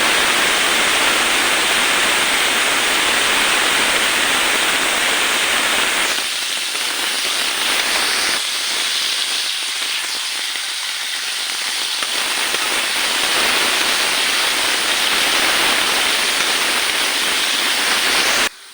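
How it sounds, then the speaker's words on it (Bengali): Potatoes fry in hot oil with turmeric, giving a dense, continuous hissing sizzle that stays loud from start to finish and dips slightly partway through. "এখানে আলুটা ভেজে নিচ্ছি হলুদ দিচ্ছি"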